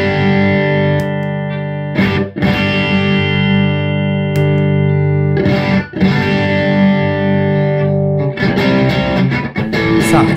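Electric guitar played through an MXR Micro Amp clean boost turned fully up, giving a loud, heavily overdriven tone; sustained distorted chords ring out in several phrases with brief pauses between them.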